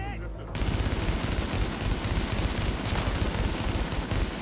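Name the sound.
sniper gunfire in the video game The Division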